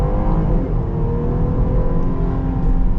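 A 2022 Jeep Grand Cherokee Trailhawk's V6 engine pulls hard under acceleration, its rising drone loud and steady from the cabin for a few seconds with no talking.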